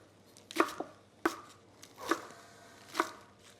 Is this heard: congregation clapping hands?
no